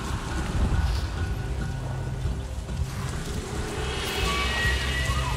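Rain pours down steadily during a thunderstorm in the video game Avatar: Frontiers of Pandora, with low rumbling underneath and a brighter crackle toward the end. The sound is continuous and fairly loud, with no talking.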